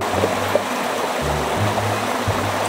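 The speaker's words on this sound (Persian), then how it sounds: "نه کن تازه آبشارم داره" A waterfall in a natural outdoor spot rushes steadily at moderate volume, a continuous watery hiss with a low engine-like hum underneath and no speech.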